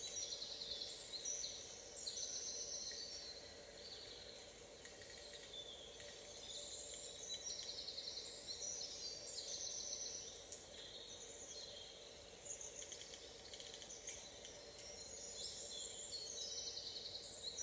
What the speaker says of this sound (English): Just watching and listening to the birds.